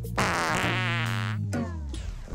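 A comic cartoon fart effect from a kitchen scene in the animated show Bonbon Restaurant: one long, loud, buzzing blast that wobbles in pitch, followed by two shorter squeaky toots, with no talking.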